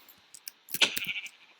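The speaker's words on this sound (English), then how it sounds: "I need to find a gray sheep" A sheep bleats in Minecraft with the TekTopia mod, a short, thin bleat preceded by a few faint clicks, quiet and close, with no talk.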